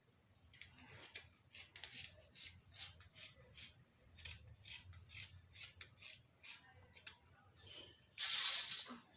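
Scissors cut out fabric for a hijab, a run of quiet, rhythmic snips and rustles close by, ending with a brief louder scrape.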